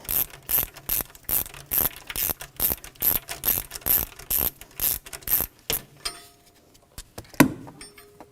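A ratchet with a 14mm socket removes a stud on a Dodge Dakota, Durango, RAM or Jeep ZJ engine during a thermostat housing job, giving a close run of about a dozen rapid rhythmic clicking strokes before stopping with a final clunk.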